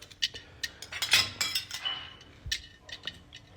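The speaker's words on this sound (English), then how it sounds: "This in here throwing glass at me." Glass is thrown and clinks, making a scatter of sharp, bright chinks and rattles up close, some louder crashes mixed with lighter tinkling over several seconds.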